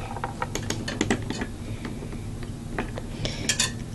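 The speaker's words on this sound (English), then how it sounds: "Or not, I'm gonna use the Allen key." An Allen key turning screws into a Cooler Master V6GT CPU cooler mount, giving quick ratcheting clicks and small metallic taps, close and fairly loud, in short irregular bursts.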